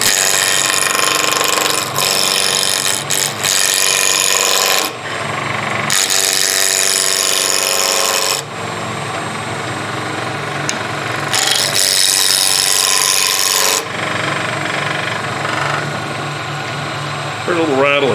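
Wood lathe turning a workpiece into round as the speed is brought up, a loud steady whirring hum with rubbing and scraping that runs throughout, with brief drops in level and a slight rattle from the tailstock.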